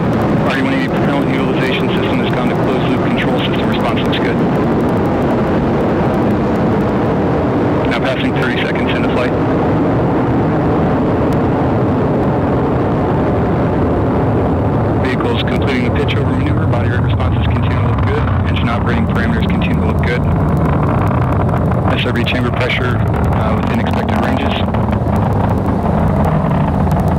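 Atlas V 511 rocket with its RD-180 engine climbing away from SLC-41 at Cape Canaveral, a loud, steady broadband roar and rumble that runs the whole time with gusty swells and occasional voices over it.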